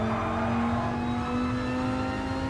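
A Dodge Viper Gr4 race car on the Sardegna track in GT Sport holds wide open throttle, its engine a loud, steady, close roar with a strong sustained tone.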